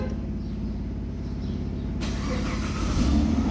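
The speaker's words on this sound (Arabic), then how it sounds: "اشتغل السيارة حاليا، راح افتحها." A 2010 Dodge Challenger fires up by remote start. The engine cranks and catches into a steady, close idle, with a brighter, fuller rumble after it starts and no talking.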